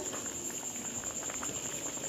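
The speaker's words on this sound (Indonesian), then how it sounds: "Sudah mendidih ya Bunda" A pot of opor ayam broth made with coconut milk boils steadily, giving a continuous soft bubbling and popping that stays fairly quiet throughout the short stretch.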